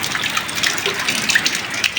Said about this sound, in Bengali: সারাদিন তো বাইরে প্রচুর বৃষ্টি হচ্ছে